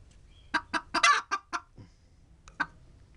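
A Japanese silkie hen clucks close by in a run of about six sharp, bunched clucks, a pause, then two more soft clucks, with no other sound.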